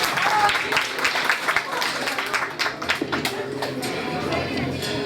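Audience applause at a Positive Day event in Sibiu, a quick burst of close clapping that fades into scattered claps under an announcer's voice.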